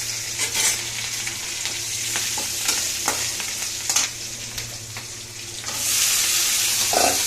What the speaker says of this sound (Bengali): জিরে ফোড়ন দিচ্ছি, কাঁচা লঙ্কা, রান্না শুরু করে দিচ্ছি